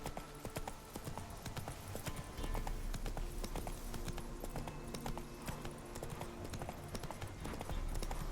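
Horse hooves clip-clop steadily in The Witcher 3: Wild Hunt, a brisk, even rhythm of close, crisp hoofbeats on ground that runs throughout over faint background game ambience.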